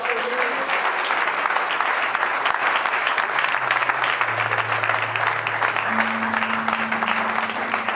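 A church congregation applauds loudly and steadily, a dense sustained wash of clapping with some voices and sounds mixed in beneath.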